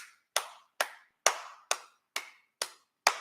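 Coaches on a football sideline clap after a touchdown, seven sharp, evenly spaced claps about half a second apart, close and clear with silence between them and no talking.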